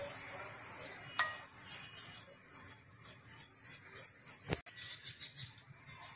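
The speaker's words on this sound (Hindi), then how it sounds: "ये हम लोग का नारियल का पाउडर बिल्कुल 2 मिनट हो गया है और भून गया है" Coconut powder stirred and roasted in a pan for modak, with soft repeated scraping and rubbing of the spoon, faint and unhurried, broken by one sharp knock against the pan.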